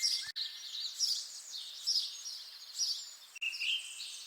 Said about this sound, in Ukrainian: Всюди яскраво світить сонце та радісно співають пташки.